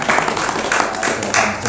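A gathering at a Qur'an memorization madrasah gives a woman a short round of applause, with a quick burst of clapping mixed with voices.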